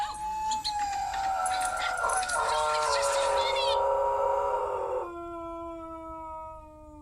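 A dog howls in a television commercial, a long wavering cry with sliding tones mixed into the rest of the ad's sound, then a fading tail, heard at moderate distance through the TV.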